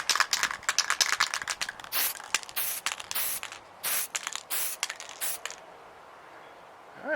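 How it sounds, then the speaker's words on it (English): Aerosol can spraying white primer onto miniature figures, sharp hissing bursts repeated in quick succession with a few longer sprays, close and fairly loud, with brief rattly pauses between and quiet at the end. "We'll spray down on them to show the highlights."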